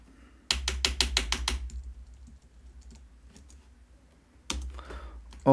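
Fingers tap a computer keyboard in a quick run of about seven crisp clicks, followed after a pause by one more keystroke, close and fairly quiet in an otherwise still room.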